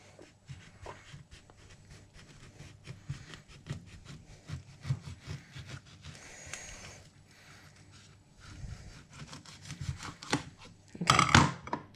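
A knife slicing an orange into thick slices for dehydrating, heard as a steady run of close, soft sawing and crunching strokes through peel and flesh, ending in a louder scrape and clatter.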